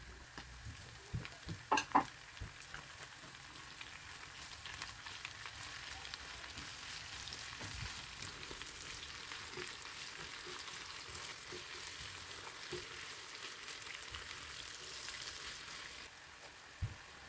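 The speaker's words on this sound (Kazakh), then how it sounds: "Етіміз қызарғаннан кейін пиязды салып қуырамыз." Small chopped pieces of meat and onion fry in hot oil, giving a soft, continuous sizzle with a few faint clinks near the start and no voices.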